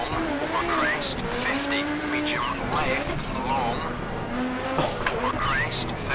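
A rally car engine screams at full speed, loud and close, its revs rising and falling with gear changes while the tyres hiss and squeal over the surface, with no voices over it.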